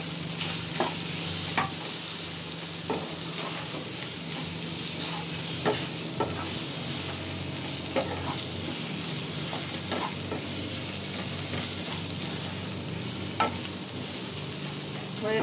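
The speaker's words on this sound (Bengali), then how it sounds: "হয়ে গেল আমার ভাজা।" Fish and bottle gourd leaves fry in a pan with a steady close sizzle, punctuated by regular sharp scrapes and clinks of a spatula stirring every second or so.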